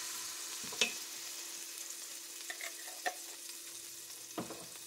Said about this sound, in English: And you're going to cook the garlic until it turns fragrant.